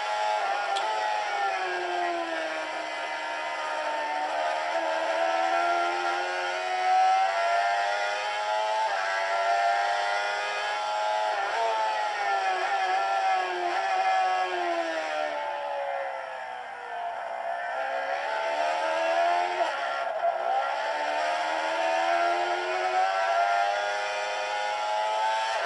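Motorcycle engine lapping the Hockenheim circuit, a steady high-pitched whine rising and falling through gear changes and corners, sustained and loud for the whole stretch with no talk over it.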